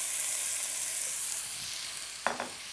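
Chopped eggplant dropped into a hot pan for caponata, giving a short burst of sizzling near the end over a steady background hiss of frying.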